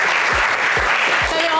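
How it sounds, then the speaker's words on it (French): A studio audience on a French television game show applauds loudly, a dense, continuous wash of clapping broken by a few low thumps, with no talk over it. "nous, on va vous applaudir très fort"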